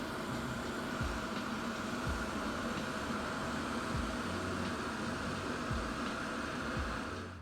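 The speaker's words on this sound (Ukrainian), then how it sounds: "Послухайте, як звучать у нас кулери." Cooling fans of a Bluetti AC70 portable power station charging in turbo mode whir with a steady, dense hiss and hum, constant and close, broken only by faint low thumps.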